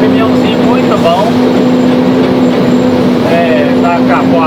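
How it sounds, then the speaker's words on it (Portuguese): A Mercedes-Benz 1519 truck runs with a steady low engine drone and hum throughout, while someone talks over it. "Esse caminhão aqui, galera, é um caminhãozinho muito bom."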